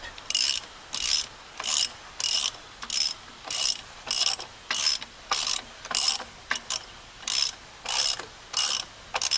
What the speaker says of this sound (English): we're going to snug it up and torque it to 100 pounds